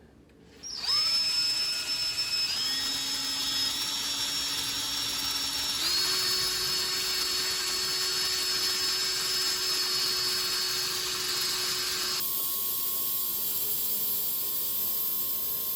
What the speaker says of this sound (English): We make sure that the drill bit is following the marking.